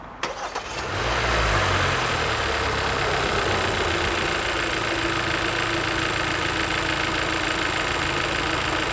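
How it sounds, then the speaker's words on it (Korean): A car engine cranks and catches, then settles into a steady, close idle with an even mid-range rumble for the rest of the clip, heard during an engine-oil service in a repair shop. "자, 시동 거세요."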